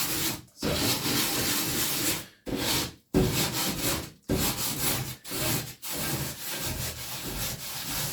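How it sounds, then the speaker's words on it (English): A cast iron pan is scoured by hand in an apartment kitchen, giving close, gritty rubbing strokes in a rhythmic back-and-forth pattern broken by short pauses, with no voices. "So this is a way to scour it without losing that natural coating that you've built up."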